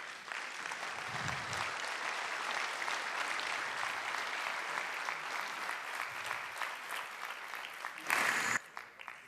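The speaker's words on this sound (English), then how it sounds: "give them also a huge big round of applause" An audience at a conference applauds in a sustained, dense burst of clapping that continues steadily for several seconds, with a louder swell near the end.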